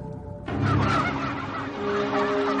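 Several turkeys call out in a burst of honking, gobbling fowl cries that sound close and fairly loud and carry for a couple of seconds, with no voices.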